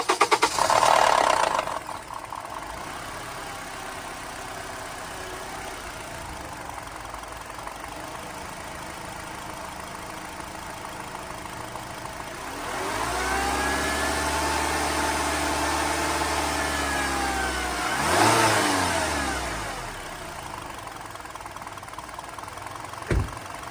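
A Lexus car engine, treated with Liqui Moly engine restorer and fresh oil, idles steadily with a low rumble, then revs up and down twice, the pitch rising and falling before settling back to idle.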